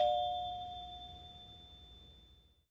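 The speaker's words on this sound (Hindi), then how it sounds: "तभी दरवाजे की घंटी बजती है।" A doorbell chime rings once as a story sound effect, a clear ding tone that decays slowly to silence over about two seconds, heard alone.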